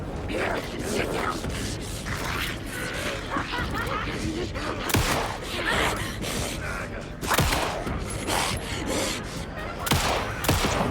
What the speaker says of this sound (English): It's a pump action shotgun